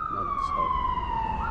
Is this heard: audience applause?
no